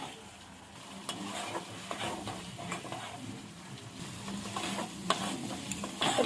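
Masala paste with ground white sesame and cashew being fried and stirred in oil, a steady close sizzle broken by spatula scrapes and taps against the pan, with no voices.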